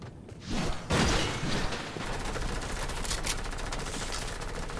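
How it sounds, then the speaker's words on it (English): Gunfire in a Fortnite match: a dense, sustained burst of rapid shots with a couple of heavier hits near the start, loud and continuous, with no voices over it. "Somebody shooting at me"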